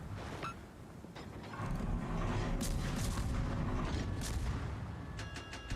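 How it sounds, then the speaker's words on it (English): A torpedo striking a ship in a naval warship game, a deep rumbling impact swelling into a sustained heavy roar with creaking metal and scattered sharp crackles, loud and close. "Oh no, I took a torpedo."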